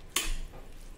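A spoon scrapes once through cooked pigeon peas with fresh coriander in a pan with the heat off, a short sharp stir followed by a faint, quiet rustle.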